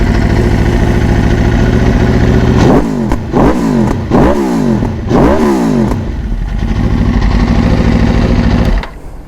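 Aprilia RSV4 motorcycle fitted with an Aero Pista GP exhaust fires up and idles loudly up close, then gives four sharp throttle blips that rise and fall in quick succession before settling back to a rumbling idle.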